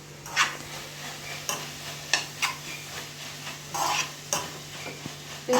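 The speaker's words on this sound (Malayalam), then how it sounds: "പിന്നെ നമുക്ക് നന്നായിട്ട് ഇളക്കി കൊടുക്കാം." Spoon stirring chicken masala gravy in a pan, a series of scraping strokes roughly every second over a soft, steady sizzle, close up with no voices.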